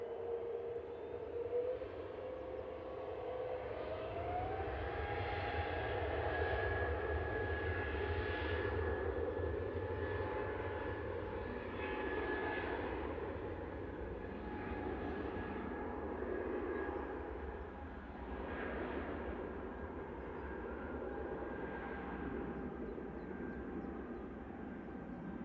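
A Scandinavian Airlines Airbus A320neo jet at Manchester Airport gives off a faint, distant engine rumble with thin, steady whining tones that drift slightly in pitch, without any voices.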